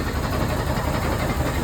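A cold engine idles under the bonnet with a steady, close, low rumble and an even mechanical drone. No one speaks.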